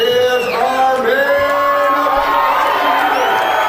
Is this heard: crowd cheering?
yes